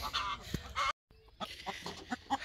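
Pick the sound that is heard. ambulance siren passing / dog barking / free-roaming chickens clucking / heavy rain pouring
free-roaming chickens clucking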